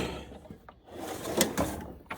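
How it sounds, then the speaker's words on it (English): Metal toolbox drawers slide and shut in a workshop, giving a few short rolling clunks and knocks at close range, spread over about two seconds. "I better shut some of these drawers"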